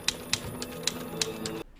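A few sharp, evenly spaced typewriter key strikes over a dense background bed, each a crisp metallic clack, then an abrupt cutoff to near silence.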